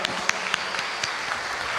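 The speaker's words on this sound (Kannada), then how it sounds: "ಅವರಿಗೂ ಸಹ ಜೋರಾಗಿ ಚಪ್ಪಾಳೆ ತಟ್ಟಿ ವಂದನೆ ಹೇಳೋಣ." Audience at a Karnataka prayer gathering claps steadily, a dense, moderate patter of many hands continuing without pause, somewhat distant.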